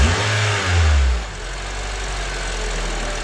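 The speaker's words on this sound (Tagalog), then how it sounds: "Sige sir, rev nyo nga po." A car engine, checked for a suspected alternator and battery charging fault, revs up briefly near the microphone, then drops back to a steady rough idle.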